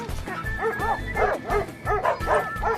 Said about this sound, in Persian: خلاصم کن وگرنه سگ مرا میخورد